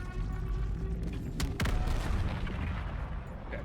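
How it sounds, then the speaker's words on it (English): A main cannon fires in the co-op shooter Helldivers 2, with a couple of sharp, close blasts in quick succession standing out from a loud, steady wash of battle noise. "Firing main cannon."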